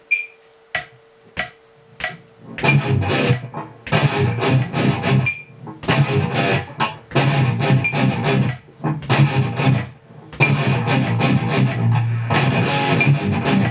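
Distorted electric guitar playing a verse riff: a few sharp metronome ticks alone at first, then fast, chugging palm-muted bursts with short gaps, loud and close.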